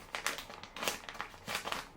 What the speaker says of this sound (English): So then I tried this plastic bag. It's sort of pretty tough plastic.